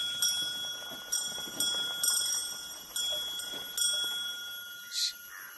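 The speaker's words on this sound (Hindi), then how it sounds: "घंटी ऐसे बजा रहा है जैसे अपनी माँ की अंतिम यात्रा पर जा रहा है।" A bell on a handcart rings repeatedly in evenly spaced, bright metallic strikes, about one per second, carrying over faint background sounds in a film scene.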